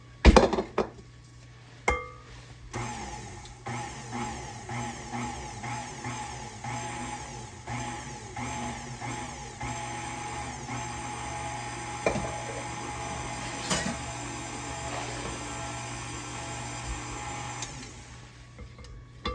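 Oatmeal raisin cookie dough is worked in a bowl as flour gets pressed in, with repeated clinks and scrapes of a utensil against the bowl, a few sharper knocks early on, then steady soft scraping under faint background hum.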